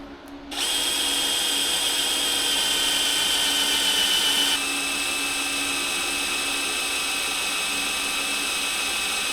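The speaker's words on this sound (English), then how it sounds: "I'm going to recheck the alignment of where I'm drilling." A power drill bores a 7/16-inch hole into a steering box during an FJ60 to FJ80 steering box conversion, starting up and then running as a steady, loud, high whine for about nine seconds.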